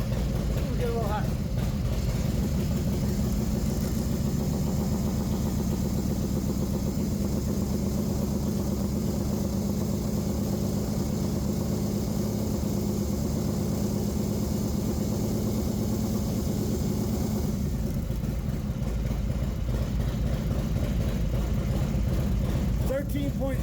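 Harley-Davidson FXR with an Evo engine held at a raised idle, a steady close throbbing drone that drops back near the end, with someone talking over it throughout.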